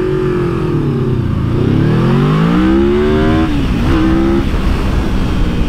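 A Yamaha VMAX motorcycle accelerates hard, its loud engine rising steeply in pitch through a gear, dipping at a shift and climbing again before easing off, heard up close from the rider's position.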